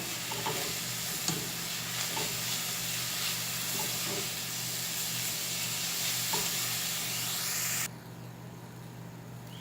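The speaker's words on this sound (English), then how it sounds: "Let's mix that up well." Seasoned conch patty filling is stirred in a hot pan, giving a steady sizzle with soft scraping strokes of the spoon, until the frying hiss drops abruptly near the end.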